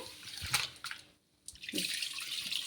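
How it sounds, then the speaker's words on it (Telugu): Water sloshes and splashes as soaked rice is swished by hand, in short bursts with a brief pause in the middle. "ఇలా వాటర్ అయితే బాగా ఇలా చేత్తో ఇలా అనేసుకొని కడిగేసుకుందాము"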